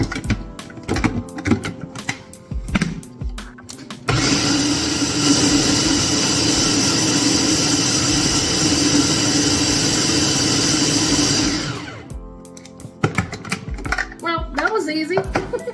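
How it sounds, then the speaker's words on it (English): A food processor whirs loudly as it chops plant-based sausage for a vegan lasagna, one steady motor run of about eight seconds with a rattling chop, set between stretches of kitchen handling noise and talk. "So I'm actually going to just take all four and place them in my food processor like so. And now it's time to post a chop."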